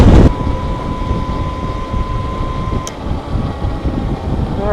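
A Rawrr Mantis X 72V electric bike ridden at full throttle, giving a steady, loud rush of wind and motor noise throughout with no speech.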